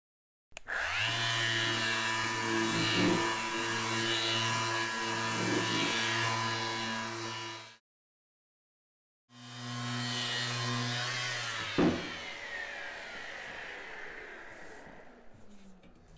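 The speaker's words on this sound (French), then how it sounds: "Je vais donc d'abord poncer." A sander works over a café racer motorcycle fuel tank in two long, steady buzzing passes separated by a brief pause, close and even in level, with no talk.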